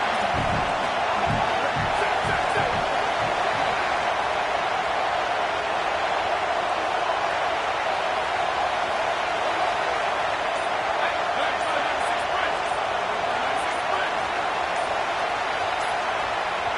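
Stadium crowd noise from a college football video game, a Nebraska matchup: a dense, steady roar holds loud for the whole stretch with faint cheering swells, and an announcer's voice runs over it.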